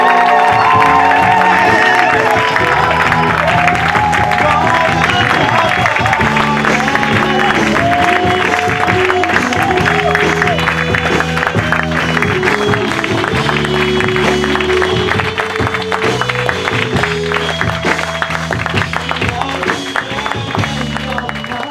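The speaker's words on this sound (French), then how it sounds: "Mais acclame Jésus-Christ de Nazareth." A church congregation claps and cheers loudly and steadily to acclaim Jesus Christ, the crowd noise blending with strong rhythmic music throughout, close and continuous.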